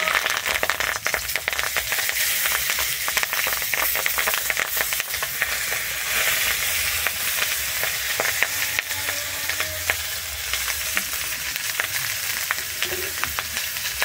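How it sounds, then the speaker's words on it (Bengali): Banana-leaf wrapped lote fish parcels frying in a brushed pan, a steady close sizzle and crackle running throughout with scattered sharper pops, no voices. "এবারে যে আমি কলা পাতায় মুড়ে নিয়েছিলাম মাছগুলো একে একে দিয়ে দিচ্ছি"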